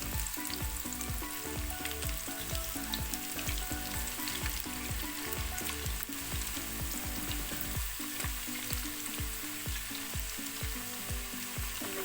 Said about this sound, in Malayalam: നമുക്ക് ഈ കായ ഇങ്ങനെ കട്ട പിടിക്കാതെ എണ്ണയിലേക്ക് ഇട്ട് കൊടുക്കാം.